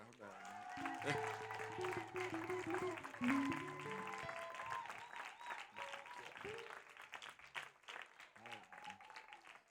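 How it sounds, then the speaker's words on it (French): Wedding guests at a church marriage ceremony applaud the couple, a continuous round of clapping mixed with music and voices, moderately loud and sustained throughout. "Est-ce qu'on peut au moins les applaudir?"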